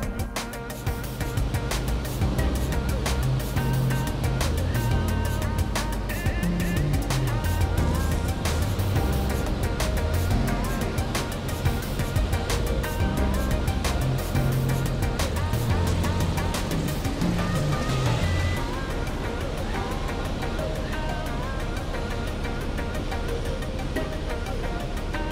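A homebuilt airplane's engine runs loud and close at a Young Eagles event, a continuous rough roar whose pitch rises and falls with throttle changes before easing slightly near the end.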